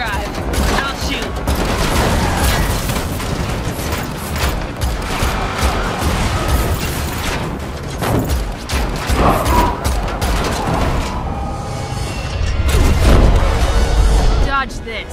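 Dense, continuous gunfire and crashing impacts from a driving chase in the Matrix Awakens Unreal Engine game, loud and chaotic throughout, with voices talking under the shooting.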